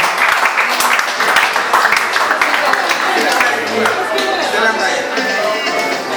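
A quiz show audience applauds and cheers for a winner, a dense, loud burst of clapping with voices mixed in that holds steady for several seconds.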